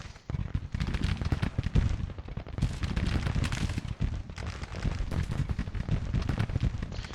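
Dense, continuous battle gunfire from an American Civil War video game, with overlapping musket shots and cannon blasts, loud and close, rattling on without a pause.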